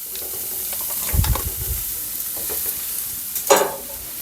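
Butter melts in a pan for a creamy Paris and shiitake mushroom risotto, giving a soft steady sizzle with a few louder bursts of scraping and stirring against the pan.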